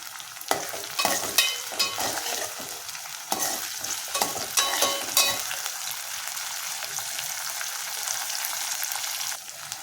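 Curry leaves and four green chillies fry in a pan with a bright, crackling sizzle, punctuated by sharp spattering bursts early on that settle into an even hiss.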